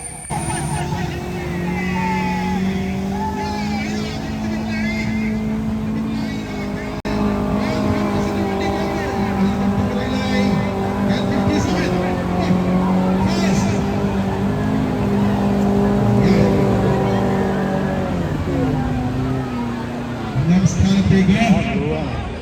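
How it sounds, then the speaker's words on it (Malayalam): Eight off-road vehicles racing together in a mud race final at the Malabar River Festival in Aniyampadam, their engines droning and revving loudly in overlapping tones throughout, with a commentator talking over the roar. "ആ ഒരു എട്ട് വണ്ടിയും ഇതാ ഒരുമിച്ച് ഓടാൻ വേണ്ടി പോവാണ്"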